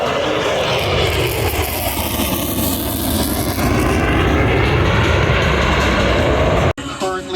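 An F/A-18 Super Hornet jet makes a fast airshow pass overhead, its engine roar building into a loud, sustained rushing sweep that cuts off abruptly near the end, with an announcer talking over it.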